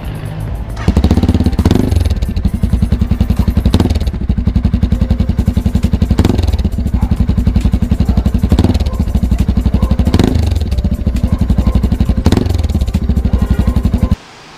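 A 2022 Motorstar Explorer Z250 motorcycle engine idles with a rapid, steady exhaust pulse, then revs hard several times in regular surges, loud and close throughout.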